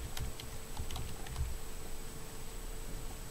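Fingers type on a computer keyboard during an economics lecture, a quiet, irregular patter of key clicks over a steady background hum.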